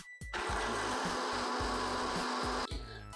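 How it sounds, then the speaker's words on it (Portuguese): Blender at low speed whipping cream with espresso, a loud continuous motor whir with a gritty churning texture, starting abruptly after a short pause and cutting off near the end. "Bateu no liquidificador cerca de 1 minuto"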